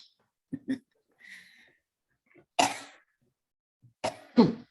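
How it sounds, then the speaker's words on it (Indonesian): Several harsh coughs come in separate bursts, a couple of quick small ones followed by louder, rougher coughs close to the microphone. "maaf batuk"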